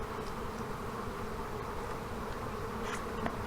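Honey bees from a swarm that has settled in an old hive drone in a dense, steady hum, close and continuous throughout with no pauses and no talking over it.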